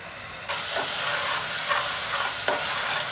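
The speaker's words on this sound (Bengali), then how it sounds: "আমি আর দুই তিন মিনিট কষাচ্ছি" Spice paste with ground cumin sizzling in a pan while being sautéed and stirred, a steady broad hiss starting abruptly after a brief quiet moment, with a few scraping stir accents and no talking.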